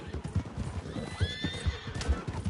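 A horse in Red Dead Redemption 2 whinnies in a rising call over rhythmic clip-clopping hooves, close and clear, with a faint voice underneath.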